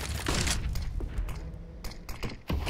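Rifle fire in Counter-Strike on the Vertigo map, with loud, close, broadband bursts of shots, several sharp reports in quick succession, and a heavy blast at the end.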